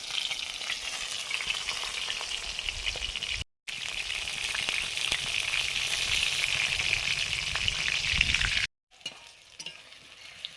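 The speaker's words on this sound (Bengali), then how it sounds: "শাক দিয়ে তেতো রান্নার জন্য সব সবজিগুলো আগে ভেজে নিচ্ছি" Pointed gourd and other vegetables frying in hot oil crackle in a loud, continuous sizzle with stirring scrapes, broken by two brief cuts and quieter after the second.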